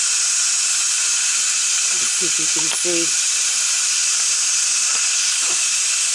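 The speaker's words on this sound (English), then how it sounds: "And let the steam come out of it." Steam hisses from the pushed-up release valve on top of a Power Cooker 6-quart pressure cooker holding a beef roast: a loud, steady, broad hiss that runs unbroken throughout while someone talks briefly.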